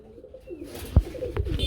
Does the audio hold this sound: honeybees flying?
no